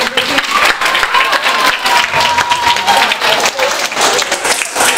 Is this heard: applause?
yes